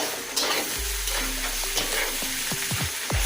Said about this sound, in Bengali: আর একবার একটু নেড়ে দিব।